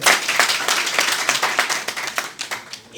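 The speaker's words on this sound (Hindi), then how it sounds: "चाहे उनके लिए एक बार जोरदार ताली" Audience applause and clapping for a director at a business meeting, a brisk burst of many hands that thins and fades toward the end.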